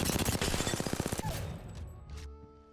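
A rapid burst of automatic gunfire in Apex Legends, loud and close with about a dozen quick evenly spaced shots, then a pause and a few fainter clicks and metallic tails as it dies away.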